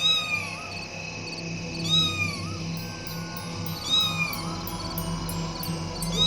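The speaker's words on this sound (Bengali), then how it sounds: "মা, সত্যি তো, কালো বিড়াল।" A black cat meows repeatedly, three drawn-out wailing cries spaced a couple of seconds apart, close and clear over a faint background hum.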